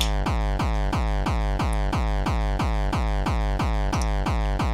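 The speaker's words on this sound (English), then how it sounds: "This is called a Millennium kick." A dry, unprocessed electronic Millennium kick drum for artcore thumps steadily about four times a second, deep booming hits with a short click on top, loud and alone.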